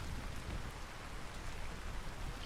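Steady, dense rainfall in the survival game Vintage Story, an unbroken hiss that stays even and fairly loud throughout, with no voices.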